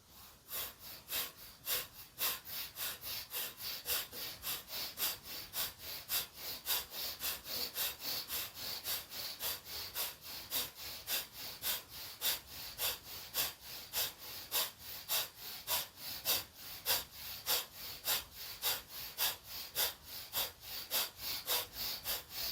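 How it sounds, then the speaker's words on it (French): Rapid, forceful bellows breaths from a yoga breathing exercise repeat in a steady rhythm, sharp puffed exhalations about twice a second, close to the listener with no talking. "Un petit peu comme la respiration du soufflet, donc comme un petit chien."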